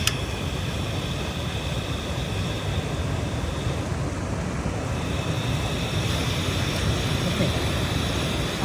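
A mini gas stove burns outdoors in the hills of Manali, giving a continuous, even roaring hiss that holds steady throughout without pause.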